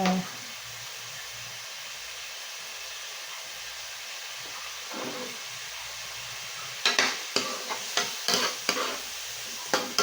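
A creamy spaghetti sauce with mushrooms simmers in a pan with a soft, steady sizzle. Near the end, a run of sharp utensil clinks from stirring comes through up close.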